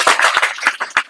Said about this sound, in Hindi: चलिए, एक बार ताली बजाइए आप लोग।